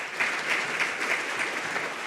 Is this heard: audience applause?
yes